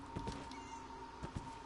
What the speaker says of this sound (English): Wait, I heard a cat.